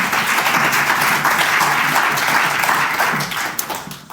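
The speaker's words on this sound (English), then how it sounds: "please give you a warm round of applause for Travis Duncan from Austin, Texas." Warm audience applause for a conference speaker being introduced, loud dense clapping from a full room that holds steady and then tapers off near the end.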